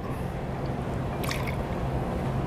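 Simple syrup poured into a cocktail shaker holding lime juice and ice, a short wet dribble and drip near the middle, close up over a steady low background hiss.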